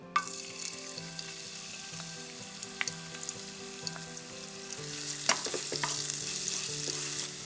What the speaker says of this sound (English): we're going to saute our veggies that we're going to put in the ackee seasoned rice